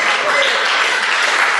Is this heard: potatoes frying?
no